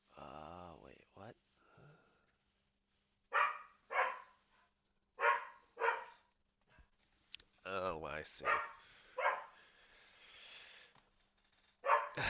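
A dog barks in sharp, loud bursts at a neighbor's dog, mixed with yips and whimpers. Someone talks briefly between the barks.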